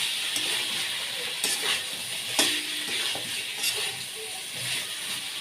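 Masala for a paneer curry sizzles in the pan, a close, steady hiss broken by scrapes and clinks of stirring at irregular intervals.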